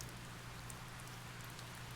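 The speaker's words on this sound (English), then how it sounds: "Okay, more rain." Steady rain falls in the farming video game Harvest Moon Save the Homeland, a constant soft hiss of drops with a low hum under it and no voices.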